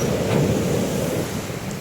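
Huge sea waves surge against the shore at Ratneshwar Mahadev, a dense, continuous roar of rough surf mixed with gusting wind across the microphone.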